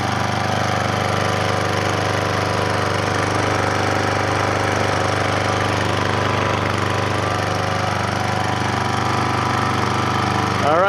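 A Troy-bilt gas power washer with a large muffler and a quiet design runs at a steady, even idle, close and constant for the whole stretch, with no pauses or speech.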